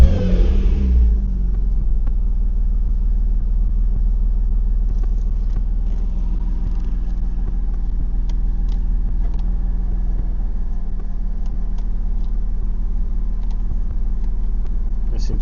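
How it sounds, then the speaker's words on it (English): A Porsche Boxster 986/987 engine catches with a brief starter whir and settles into a deep, steady idle rumble that runs loud and close, with a few faint clicks and knocks on top. "One thing with this is you do have to press the clutch down to start it."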